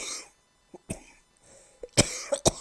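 A few sharp coughs, one faint then a cluster of two or three harsh bursts near the end, with quiet gaps between.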